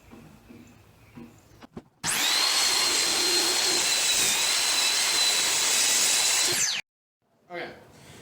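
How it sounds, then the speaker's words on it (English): Chop saw slicing the end off a short wooden board for a cheese board: one loud, steady whining cut lasting about five seconds, framed by quieter workshop sounds before and after. "So we're going to do that through the chop saw."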